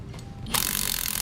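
A ratchet wrench clicks steadily while tightening nylon lock nuts on the brackets of Air Lift LoadLifter 5000 air helper springs, a quick even run of close metallic pawl clicks starting partway in over a low background hum.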